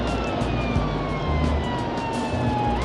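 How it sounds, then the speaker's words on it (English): A police car siren wails at full blast while the car speeds down a motorway chasing a motorcycle, the tone sliding and sweeping loudly over steady road and engine roar. "Even with the blue lights on and the siren at full blast"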